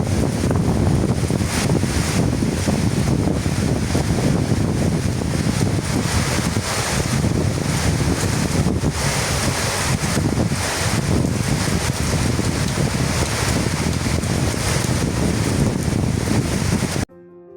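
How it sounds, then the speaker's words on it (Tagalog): Strong wind and rain pound a terrace in a Philippine storm, a loud, steady, unbroken roar of gusts and downpour with no talk. "Daang hangin, kusog pagit siya."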